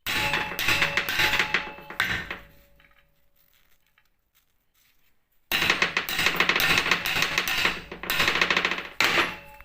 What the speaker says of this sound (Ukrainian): беремо диск е, головного щеплення і забиваємо ці наші щифти